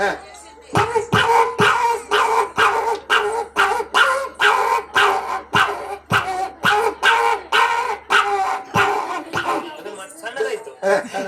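A mimicry artist on stage imitates a newborn puppy calling its mother with a long run of rhythmic, whimpering yelps, one after another at a steady pace, close and fairly loud.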